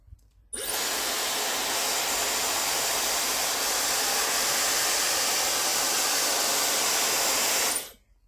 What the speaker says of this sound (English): So we've had the hairdryer on it for about 5 minutes